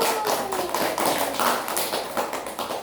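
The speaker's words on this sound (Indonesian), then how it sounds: "Tepuk tangan dulu." Children clapping their hands together in a classroom lesson, a fairly loud run of quick, dense claps lasting the whole moment with faint voices underneath.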